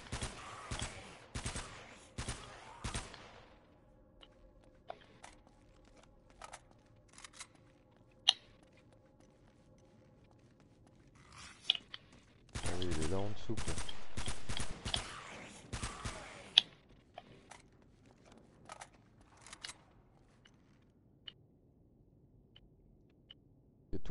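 Gunfire in the PlayStation 4 action game Uncharted: Drake's Fortune, quick bursts of rapid shots at the start, scattered single cracks through the middle and a sustained fusillade midway, fairly quiet overall.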